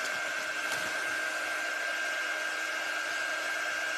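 A hair dryer blows steadily on a wooden cardinal ornament to finish drying it, a constant loud whirring airflow with a high whine running unchanged throughout.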